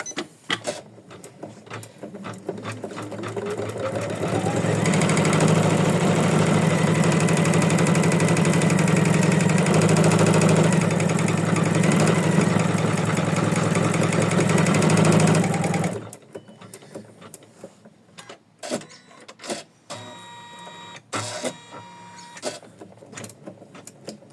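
An embroidery machine stitching an in-the-hoop card runs as a loud, steady mechanical hum and rapid needle chatter for about eleven seconds, then stops, leaving quieter clicks and handling noises.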